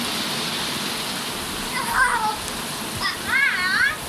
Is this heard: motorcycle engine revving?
no